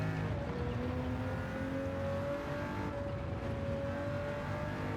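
A 1997 Toyota Supra RZ fitted with a Huayra engine racing at full throttle in Gran Turismo 7, a sustained high engine drone with slowly rising pitch, steady and close.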